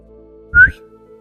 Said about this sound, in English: He whistled softly to himself, hardly believing what he was seeing.